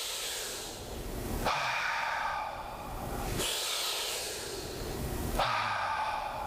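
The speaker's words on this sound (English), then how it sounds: "the long inhalation and the long exhalation represents a feeling of comfort, of relaxation" A single person demonstrates slow, deep breathing, heard up close and alone: three long, airy breath cycles, each a drawn-out inhalation followed by a steady exhalation, with no talking.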